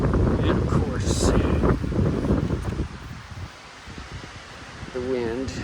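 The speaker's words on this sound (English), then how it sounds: "the wind is gonna blow as hard as humanly possible." Strong wind blows across a garden of shade-loving Japanese maples, a loud, steady rushing roar buffeting the microphone that eases off partway through before gusting up again.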